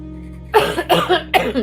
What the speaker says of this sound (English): little coughing fits